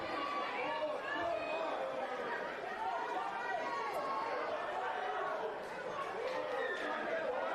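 A Nightcliff crowd at a rugby league preliminary final, a steady loud wash of chatter and shouting from many spectators with no clear peaks, under commentary.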